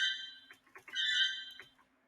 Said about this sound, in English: this is a MIDI one for a whistle effect.